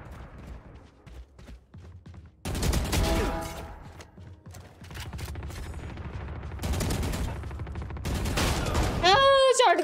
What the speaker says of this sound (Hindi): शॉटगन, ठीक है